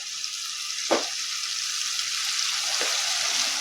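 Mashed tomato and red chili powder sizzle in hot oil for a kaju curry, a close, steady frying hiss broken by two brief stirring scrapes.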